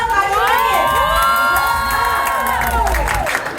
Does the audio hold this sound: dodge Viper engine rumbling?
no